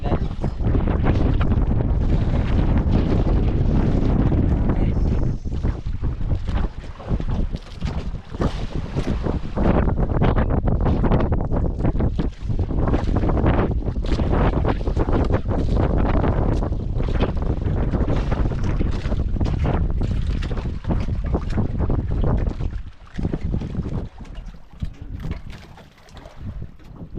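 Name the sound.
strong wind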